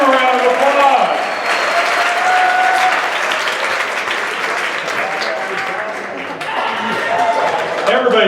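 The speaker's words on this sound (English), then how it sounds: "All right, give them a round of applause." Audience applause at a hypnosis show, with a crowd clapping steadily and loudly while voices and laughter run beneath it, fading slightly midway before swelling again.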